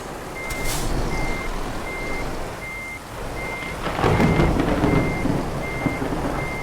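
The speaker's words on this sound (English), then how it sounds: "The sound of that thunder's absolutely awesome." Thunder rumbles across a stormy evening in the Euro Truck Simulator 2 game, a deep roll swelling midway while a truck's reversing beeps repeat steadily over the top.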